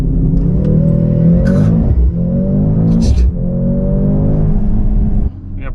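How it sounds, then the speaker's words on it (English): A 2025 Mercedes-AMG C63 S E Performance hybrid accelerating hard from inside the cabin, its engine note rising steadily through gears with brief dips at each shift, loud and close. "it's time to go for a drive and experience this new C63S e-Performance"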